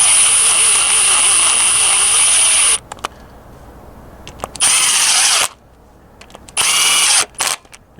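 A power drill screeches at high speed as it snugs down bolts during a B20B engine swap, one long run followed by shorter bursts, loud and close with quiet gaps between.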